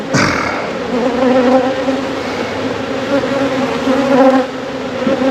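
A dense, steady buzz of many honey bees around a hive housing a swarm fills the air close by, droning continuously with slight swells in loudness.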